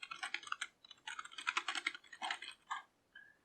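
Quiet, soft-press computer keyboard keys are typed in a brisk, irregular run of muted clicks, close and faint against a near-silent background.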